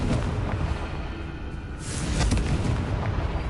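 A fiery Confringo blast spell erupting in a PS4 video game, a loud, sustained rumbling explosion with crackling bursts that swells midway and keeps roaring.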